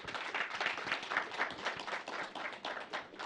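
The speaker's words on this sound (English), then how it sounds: "So please put your hands together for Kofi Abuchi again." Steady, dense applause from a forum audience, hands clapping together continuously for speaker Kofi Abuchi at a broadcasting forum on migration and free-to-air television, fairly even and moderately loud throughout.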